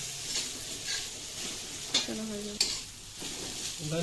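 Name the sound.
broken wheat (dalia) frying and stirred in pan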